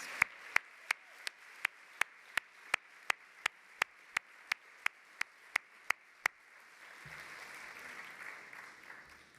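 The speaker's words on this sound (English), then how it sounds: "Let's give them one final round of applause." Applause from a crowd with sharp, evenly spaced claps standing out in a steady rhythm, then fading into a low murmur of the room.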